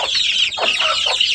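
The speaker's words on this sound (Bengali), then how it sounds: "এটা আমাদের দেশি জাতীয় মুরগি।" Desi hens in a rooftop garden give a quick burst of close, loud clucks, several short calls packed into little more than a second.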